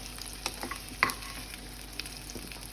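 Vegetables sautéed in a wok give a soft, quiet sizzle, with scattered clinks and scrapes of a utensil at irregular moments and no voices.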